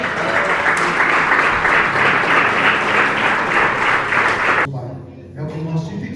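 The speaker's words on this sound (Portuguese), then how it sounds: "Que as palmas louvem ao Senhor" Congregation applause during a church service, a loud, steady mass of clapping that cuts off abruptly near the end, followed by a voice speaking.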